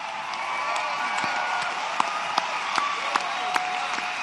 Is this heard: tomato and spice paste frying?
no